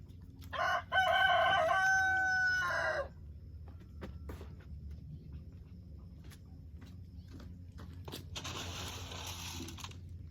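A rooster crows loudly nearby, then quieter clucking and rustling follow with another bird call near the end.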